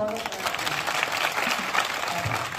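Crowd applause at a BJP candidate's rally-style village gathering in Rajasthan, dense clapping heard close and continuous for a couple of seconds, with voices mixed in.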